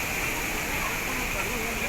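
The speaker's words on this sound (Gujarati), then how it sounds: "મસ્ત વોટરફોલ આવ્યો છે તો તમને બતાવું છું." A waterfall along the Kedarnath trek sends up a constant rushing hiss of falling water, dense and unbroken, filling the whole moment at an even level.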